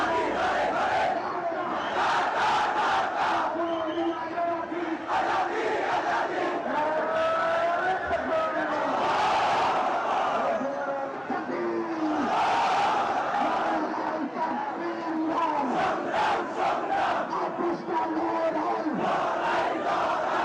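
A large crowd of students chanting and shouting together at a protest in Dhaka, Bangladesh, a dense continuous roar with rhythmic collective cries rising and falling throughout.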